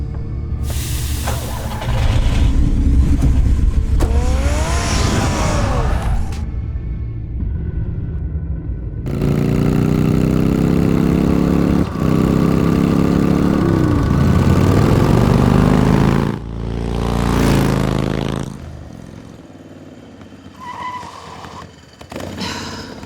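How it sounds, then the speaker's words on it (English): Car engine idling in the Batman Telltale video game, a steady low rumble running through most of the stretch, with louder surges and game sounds in between and no speech. "Get the car ready, Alfred."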